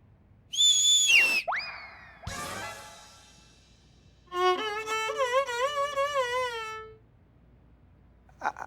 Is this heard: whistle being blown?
yes